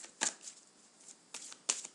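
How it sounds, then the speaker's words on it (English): A deck of playing cards shuffled by hand, crisp riffling bursts in a couple of quick separate passes, close and fairly quiet with soft rustling in between. "shuffle the deck"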